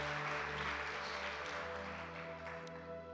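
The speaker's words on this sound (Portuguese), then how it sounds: "Você pode aplaudir o Senhor pela sua palavra" Church congregation applauding during an evening worship service, a faint steady wash of clapping in a large room with a low hum beneath, no voices over it.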